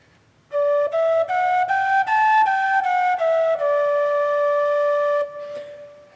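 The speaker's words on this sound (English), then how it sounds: "every time you hit a note in the tin whistle, make a t sound with your tongue, slightly touching the front of your teeth" Tin whistle playing a short melodic phrase of distinctly tongued notes, each attack crisp and separate, stepping up and back down before a long held final note; close, clear and alone with no talk.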